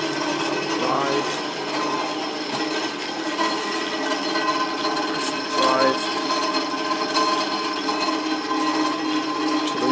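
A Drummond Type M lathe runs on its original motor drive, giving a steady mechanical whir with a faint rhythmic clatter, close and continuous, while someone talks over it.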